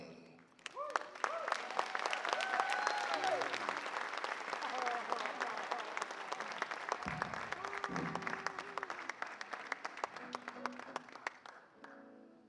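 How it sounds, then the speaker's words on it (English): An audience applauds a hula group, Kapahula o Hinano, at a competition on Kauai, with dense clapping sustained throughout and a few cheers and faint voices mixed in, tapering near the end. "Please give them a warm welcome and round of applause for Kapahula o Hinano"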